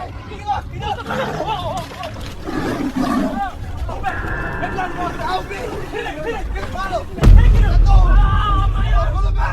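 A tiger attacks a fisherman on a shore, its loud roars and snarls rising amid frantic shouting from several people, with a heavy thump and surge of noise near the end.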